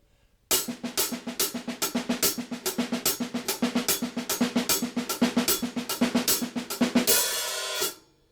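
Rapid, evenly spaced hi-hat eighth notes with diddles in between keep a steady rolling triplet pattern, close and bright, ending on a washy cymbal crash.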